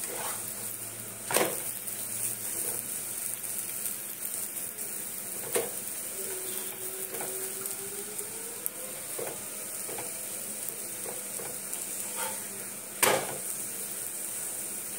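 Potatoes fry in a pan with a continuous, even sizzle close by, broken by a few sharp knocks of a utensil against the pan.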